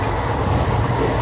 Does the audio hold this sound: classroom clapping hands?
no